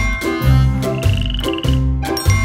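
A cartoon frog croaks inside a children's nursery song about a clock, sounding as a few rhythmic croaks over bouncy music with a sustained tonal line.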